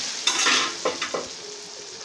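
Ground tomato paste hits a hot pan, bursting into a loud sizzle, then a few scraping stirs as the hiss settles to a softer steady fry; close, no voices.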